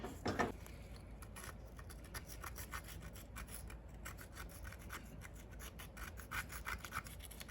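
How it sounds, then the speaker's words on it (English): Rust and grit are scrubbed off a brake caliper pin on a 1994-1996 Chevy Impala SS or Caprice 9C1 with quiet, rapid, rasping strokes close by, steady and low in level. "I'm going to clean off some rust and grit."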